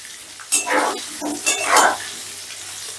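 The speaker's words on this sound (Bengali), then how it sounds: "এবার গ্যাসের আঁচটা মিডিয়ামে রেখে আলুগুলোকে আমি লাল লাল করে ভেজে নেব" Potato strips fry in oil in a pan over a medium flame, a light sizzle broken by a few brief stirring and scraping bursts, fairly close and with no talk.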